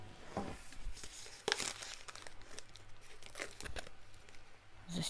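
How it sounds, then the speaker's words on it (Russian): Parchment paper is crinkled and pressed into a baking tray, with several loud rustling, crackling bursts at irregular intervals and quieter rustles between. "застелю пергаментной бумагой."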